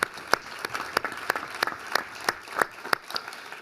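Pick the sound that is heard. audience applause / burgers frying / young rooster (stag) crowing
audience applause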